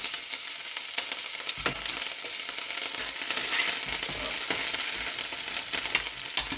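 Green chillies tipped into hot oil seasoned with a pinch of asafoetida over a low gas flame, giving a close, steady crackling sizzle that runs unbroken throughout with no voices.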